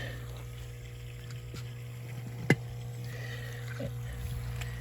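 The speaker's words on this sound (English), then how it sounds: "So our air pump, so this is our air hose, and it's a weighted air hose." Air pump for a natural swimming pool feeding a weighted air hose to an air stone, a steady low hum running throughout, with a single brief knock partway through.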